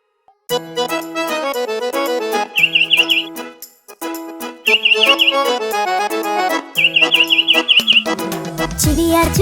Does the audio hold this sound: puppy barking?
no